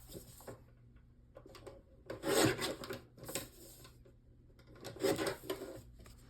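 Cardstock being cut down to a strip for a pumpkin-border dutch door card, heard as two louder rasping, scraping passes from a paper trimmer or blade, with softer rubbing and handling noises between them, close and clear with no talking.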